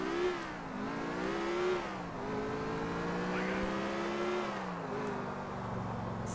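A steady car engine in the video game GTA IV drones and rises in pitch as it accelerates, with smooth gear-like sweeps and a continuous whirring tone throughout.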